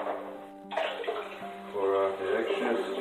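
Water poured off a gold pan during panning of metal detecting finds, a broad splashing rush running for about two seconds, with a voice talking over part of it.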